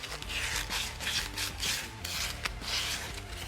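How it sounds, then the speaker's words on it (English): Close, steady rasping strokes of sandpaper worked by hand over a Lorcin L-25 pistol frame around the trigger guard, in a rhythmic back-and-forth pattern with no talking. "So I'll hit that with a little sanding."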